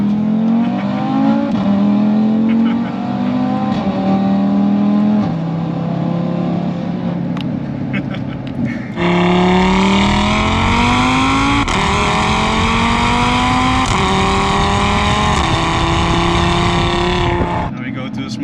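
A 550 hp Audi RS3 held in neutral at the Nürburgring, revved hard in a series of rising and falling engine pulls, loud and close, with a brief dip before a higher, brighter run of revs.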